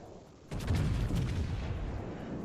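Heavy battleship guns of a Montana fire in World of Warships, a sudden loud booming salvo that keeps rumbling and rolling for a couple of seconds afterward.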